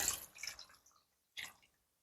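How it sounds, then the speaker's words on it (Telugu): Water is poured into chicken curry paste and stirred in, giving two short, quiet splashing bursts separated by a brief silence, close and soft. "సో ఇట్లా నీళ్ళు పోసుకొని సో మిగిలిన పేస్ట్ అంతా ఒక్కసారి ఇట్లా కలుపుకొని"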